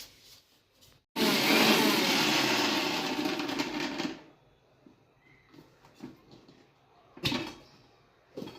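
A kitchen mixer grinder grinds ginger into paste, a loud whirring burst that starts abruptly, runs for about three seconds and cuts off, followed by faint clatter and a brief second pulse.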